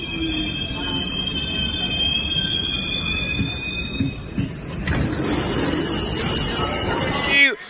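Subway train at a Brooklyn metro station, a steady rumble of cars rolling along the rails with high, sustained wheel squeal above, swelling louder midway and ending in a sharp squeal, with crowd babble faintly underneath.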